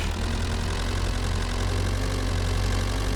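A tractor engine idles in a farming video game, a dense, steady low rumble with constant mechanical vibration, loud and unbroken across the whole stretch with no talking.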